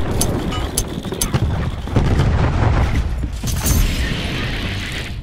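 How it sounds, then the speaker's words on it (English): A cluster grenade goes off in Black Ops 4: a loud, dense rumble of overlapping blasts and booms, with crackling bursts layered over a heavy low roar. "Cluster grenade incoming."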